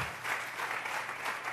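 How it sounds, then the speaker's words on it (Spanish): A church congregation applauding in offering to God during a sermon, a brief dense burst of many hands clapping together at moderate volume. "Vamos a regalarle ofrenda de palmas al Dios de la gloria."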